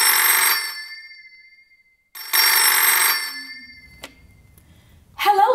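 A telephone on a radio call-in show gives two loud, close electronic rings, each about half a second long, separated by silence, and a short clunk follows as it is answered.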